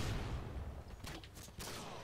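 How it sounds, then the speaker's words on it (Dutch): SCAR rifle gunfire in Call of Duty: Modern Warfare 2, a quick cluster of sharp, fairly faint shots around the middle of a short stretch of low game rumble. "Het wapen is heel sterk, by the way, deze Scar. Het ding dat killt letterlijk in 2 kogels."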